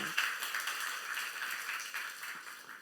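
Applause from a church congregation during a youth service sermon, a steady wash of many hands clapping together at moderate distance, sustained without a break.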